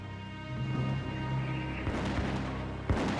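A battle gunfire sound effect for the Battle of Trenton gives a dense, continuous rumble of distant musket and cannon fire, with one sharper boom standing out near the end.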